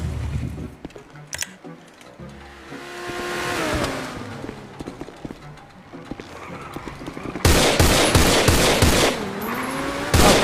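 Video game gunfire crackles in rapid, loud automatic bursts through the last few seconds, following a quieter stretch of mixed game noise.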